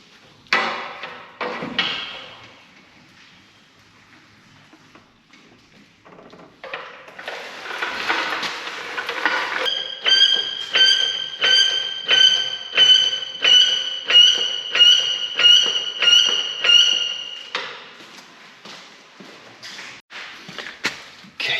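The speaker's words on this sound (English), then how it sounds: "screwdriver in the hammer has helped from the back" Metal hammer blows driving a screwdriver to loosen the transfer case on a vintage 6x6 truck, a few scattered strikes at first, then a rapid regular series of ringing metallic hits before tapering off.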